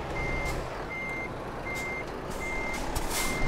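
Reversing beeps from a truck in Euro Truck Simulator 2, a steady run of evenly spaced electronic beeps over a constant low engine rumble.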